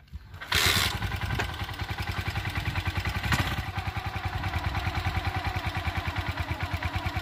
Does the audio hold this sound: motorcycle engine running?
yes